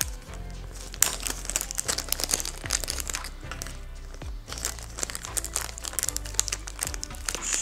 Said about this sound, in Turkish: Şöyle poşetini aldım.